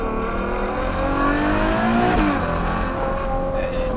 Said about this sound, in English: the exhaust barks beautifully, just beautifully.